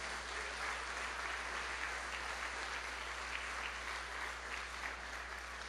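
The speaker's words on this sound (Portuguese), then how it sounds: "Dê uma salva de palmas a Jesus," A church congregation claps together in a steady, dense burst of applause during a worship service, loud and sustained throughout with no speech over it.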